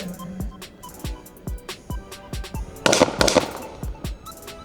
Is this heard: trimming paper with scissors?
no